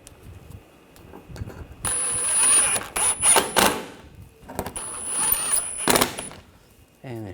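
Power tool driving screws into a 2013-2022 Buick Encore 1.4L front bumper cover, several short whirring bursts with pauses between them, close up, with a faint high whine in places.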